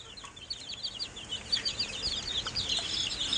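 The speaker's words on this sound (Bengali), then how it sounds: "মোট এখানে বাচ্চা আছে 26টা ব্রয়লার মুরগির বাচ্চা দেখতে পাইতেছেন।" Twenty-six broiler chicken chicks in a small farm setup, chirping continuously in overlapping high peeps at close range, with no talking.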